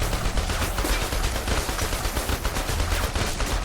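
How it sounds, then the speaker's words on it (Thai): Rapid gunfire from a vehicle in the video game Hatred, loud continuous bursts with dense overlapping shots throughout and no voices. "มันใช้รถยิงเลยอ่ะ"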